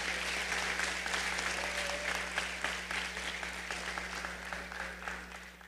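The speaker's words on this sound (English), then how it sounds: "Let's give the parents a round of applause also." Sustained applause from a graduation ceremony audience honoring the parents at a high school awards event, steady dense clapping throughout that slowly thins toward the end, with a constant low electrical hum underneath.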